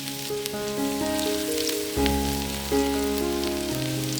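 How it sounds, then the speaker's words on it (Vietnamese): Garlic frying in a hot pan of cooking oil gives a steady, close sizzle and crackle, with bright spattering throughout and a few louder pops. Background tones sound alongside it and there is no talk. "Và cho tỏi vào phi thơm."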